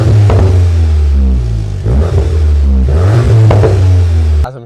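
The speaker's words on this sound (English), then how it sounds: "let's switch the car up in sport mode and check out how it sounds" A VW MK8 Golf GTI Clubsport in sport mode revs hard and close several times, its throttle blips rising and falling over a deep, loud engine drone, then cuts off sharply.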